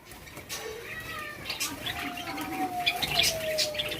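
White Java sparrows in a bird-selling setting give short chirps and soft warbling calls. The calls are light and scattered, and several sound close over a quiet, steady background.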